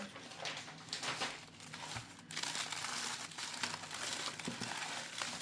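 Paper crinkles and rustles continuously up close as a wrapping is unfolded, with a sharper crackle partway through.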